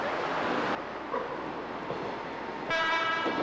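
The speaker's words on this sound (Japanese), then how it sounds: "始発電車が通過する音が自由人たちの目覚まし代わり" The first train of the morning rolls past at dawn around an electronics district where people sleep outside, a steady loud rumble of rail cars with a brighter tonal horn-like burst near the end.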